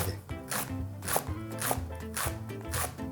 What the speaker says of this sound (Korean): 우리는 파를 썰어서 준비해야죠